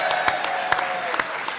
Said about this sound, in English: Give Damien a round of applause